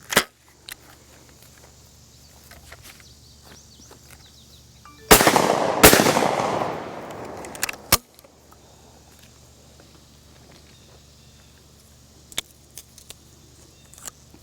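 A brand new Benelli 828U 12 gauge over-under shotgun fires Federal 7.5 shot at an outdoor range: two loud, sharp reports about a second apart, followed by a shorter crack and faint handling clicks.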